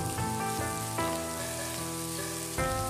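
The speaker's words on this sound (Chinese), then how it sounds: "起锅烧油，油热之后把葱末和大蒜倒进去爆香" Chopped scallions and sliced garlic sizzle in hot oil in a wok, a crackling, rain-like hiss that stays steady and close. Music plays clearly over it.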